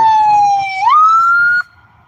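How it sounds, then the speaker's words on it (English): An ambulance siren wails up close and loud in one sustained tone that slides upward, then cuts off sharply and leaves faint background noise. "That's the ambulance"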